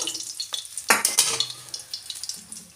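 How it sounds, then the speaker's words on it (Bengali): Fish pieces (rohu) frying in hot oil, a steady bright sizzle broken by sharp scraping and clinking of a utensil being stirred through the pan, close and busy with no talking. "মাছটা একটু ভালো করে লাল লাল করে ভেজে নেবো"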